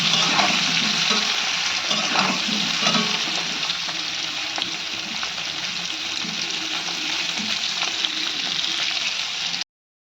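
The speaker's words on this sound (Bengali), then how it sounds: "হলুদ দিয়ে দিলাম লাল লাল করে এটাকে ভেজে নেব" Steady, loud sizzling of small potatoes with turmeric frying in hot oil, continuous for the whole stretch with no voices.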